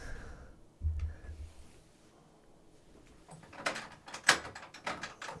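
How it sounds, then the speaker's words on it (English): A door is pulled shut indoors with a soft low thud, followed by faint rattles and clicks, quiet and close, with no talking. "Need to close the door."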